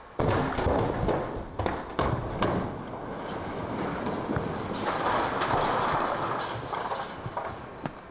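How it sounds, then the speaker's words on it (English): A loud, roaring film set explosion rumbles on as a dense, crackling fire roar, with scattered thuds and pops over about eight seconds. "So when the explosion went off"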